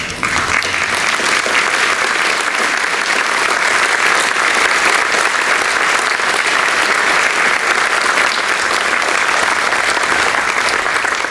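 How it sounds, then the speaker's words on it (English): Banquet audience at a spring reunion applauding outstanding seniors who stand, a dense, loud, steady wash of clapping that fills the whole stretch without pause. "everybody give you a round of applause"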